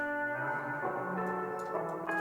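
Guitar loop at 97 BPM with heavy reverb added in a music production session, soft sustained plucked notes ringing out into a long, washy tail, played alone.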